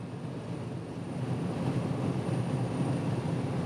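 A seaplane flies in the sky above Dubai, its engine a steady, moderately distant drone that swells slightly and holds, with no voices present.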